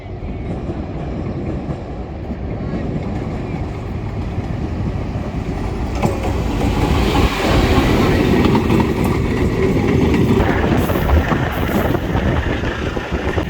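A train pulls into a railway station in a Portuguese village, a steady low rumble and rolling clatter growing louder partway through and holding close and loud, with wind buffeting the microphone.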